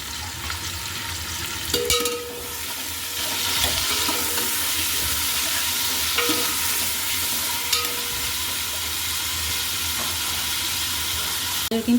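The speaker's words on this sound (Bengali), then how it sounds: "গাজর ভেজে নেওয়ার জন্য আমি অল্প তেল দিয়ে দিলাম।" Carrots fry in a little oil for biryani, a continuous close sizzle with occasional clinks and scrapes of stirring.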